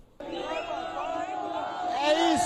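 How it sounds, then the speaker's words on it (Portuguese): Corinthians supporters celebrate at the Gaviões da Fiel court after a Supercopa Rei title win over Flamengo, a steady crowd roar with chanting voices that swells louder toward the end. "vamos ouvir a torcida corintiana em festa na quadra da Gaviões"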